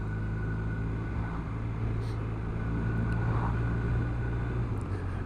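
A BMW R1200RS motorcycle engine droning steadily while riding, a constant low loud hum mixed with wind rush, with no breaks or pauses.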